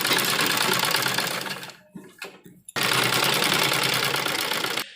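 A sewing machine runs a loose basting stitch across a baby frock, a loud, steady whirring burst that stops briefly for a couple of seconds before the stitching resumes just as strongly.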